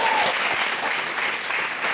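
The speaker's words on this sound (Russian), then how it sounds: "Давайте поаплодируем этим ребятам." An audience at a historical quiz stand-up comedy show claps steadily, a dense patter of many hands that holds at an even level throughout.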